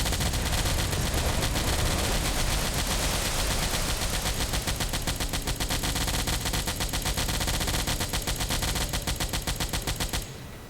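Dense, rapid explosions and rumbling blasts keep up without a break around a submarine in Silent Hunter IV, a loud rattling barrage running for about ten seconds before easing at the end.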